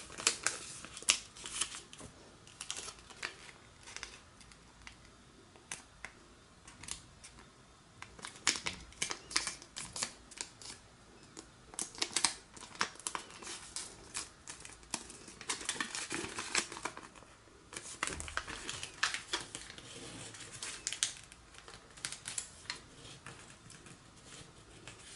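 Paper being folded and creased for an origami cross bookmark, faint close crinkles and soft taps scattered irregularly throughout, with no talking.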